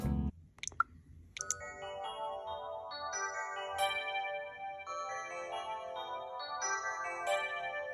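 A gentle melodic track from Super Mario 64, likely played on a Yamaha DX-style synthesizer, with bright bell-like notes over a soft sustained backing. It opens with a few clicks and then flows on as a calm, steady tune without any voices.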